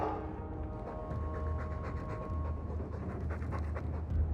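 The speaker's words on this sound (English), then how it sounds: "I'm sick of what's-his-name staring and panting." Mabari war dog in Dragon Age II panting, quick rhythmic breaths that continue steadily and close by for several seconds.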